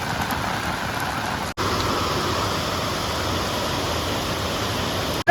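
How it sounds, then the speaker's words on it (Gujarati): Heavy rain falls on open farm fields during a sudden downpour, a loud, unbroken hiss of water close by. It cuts out briefly twice, and no one speaks. "વરસાદ તો પાછો વધી ગયો છે"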